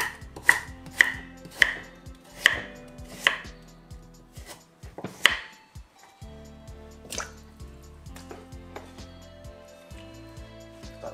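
Carrot being chopped on a cutting board, a series of crisp knife strikes in an uneven rhythm, close and clear, with a pause midway before more chops.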